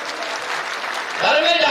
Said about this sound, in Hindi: अरे तालियों की गड़गड़ाहट मेरी महिलाओं की।